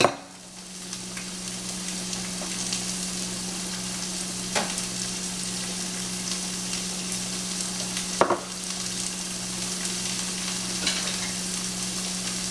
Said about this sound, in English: you just kind of want to fry it up before you add